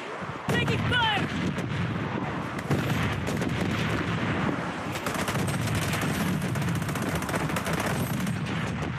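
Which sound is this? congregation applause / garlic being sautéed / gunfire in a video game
gunfire in a video game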